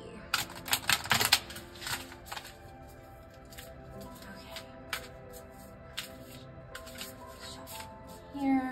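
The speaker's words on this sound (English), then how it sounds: "So let's just shuffle these cards here" Tarot card deck being shuffled by hand, a burst of crisp riffling and slapping early on, then scattered softer card flicks and rustles, close and fairly quiet, with a brief spoken word.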